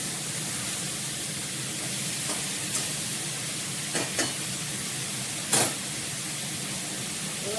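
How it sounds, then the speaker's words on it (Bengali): Ridge gourd frying in a pan gives a steady broadband sizzle, with a few brief scraping stir strokes standing out over it; no voices. "একটু নাড়াচাড়া করে জল দিয়ে দেবো।"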